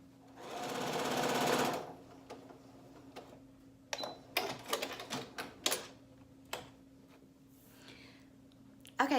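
Sewing machine stitching fabric for a dog snood, a fast whirring burst of stitching followed by a run of short mechanical clatters and clicks, close and fairly quiet.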